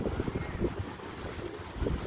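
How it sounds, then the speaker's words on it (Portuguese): Wind blowing across the white sand dunes of Cabo Frio beach, a steady low buffeting roar that rumbles against the microphone throughout, gusting slightly louder at the edges with no clear voices. "Tá ventando, né?"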